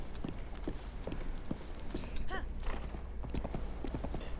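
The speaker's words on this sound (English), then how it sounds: "you take Lyra into a canter to avoid them" Horse hooves canter in Breath of the Wild, a quick rhythmic clip-clop of repeated beats close up, with a brief bubbling splash in the middle and soft low ambience beneath.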